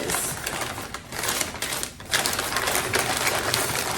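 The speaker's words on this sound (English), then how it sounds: "Got to do some more unwrapping." Thrifted items being unwrapped, with a steady close crinkling and rustling of wrapping material that runs throughout, dips briefly twice, and keeps a busy, scratchy texture.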